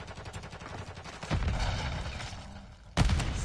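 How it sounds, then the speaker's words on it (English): A grenade blast in Call of Duty: Modern Warfare 3 lands as a loud booming burst, and a second sharp explosion follows about a second and a half later over steady battlefield gunfire. "Grenade."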